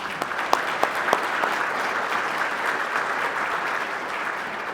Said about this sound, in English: our next honoree this evening, a round of applause for Investigator Rasheem Franklin